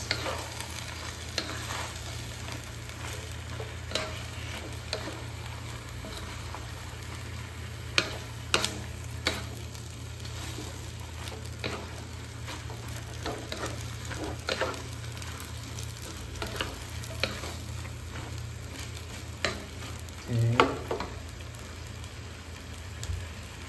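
Stirring bottle gourd (upo) with sardines in a pan on a home stove, soft steady sizzling under scattered clicks and scrapes of a utensil against the pan.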